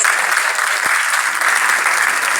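Audience applause fills an African Talent Awards ceremony hall, a steady, dense wash of many hands clapping together, loud and sustained throughout without a break.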